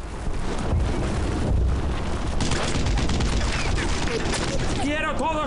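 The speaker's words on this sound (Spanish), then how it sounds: "Quiero todos los disparos sobre esa posición." Gunfire and explosions from the game Brothers In Arms: Earned in Blood, with dense bursts of shots and booms rattling throughout, loud and close, while voices talk over the battle.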